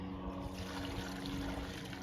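Water poured onto the roots of newly delivered trees, including an Autumn Blaze Red Maple, being planted: a steady, soft rush and trickle of water with no break.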